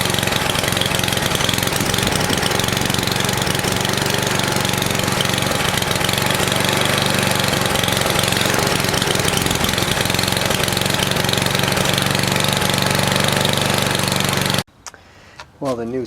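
A NOMA 8hp snowblower engine runs loud and close with a steady rough drone and knocking, then cuts off abruptly near the end as someone speaks.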